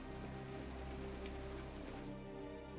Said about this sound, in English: I don't care if it's raining.